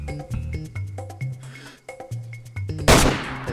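A single loud, sharp gunshot blast from a firearm in the survival game DayZ bursts out near the end, cutting through a steady backdrop of layered, tonal in-game music and sound effects; no voices are heard.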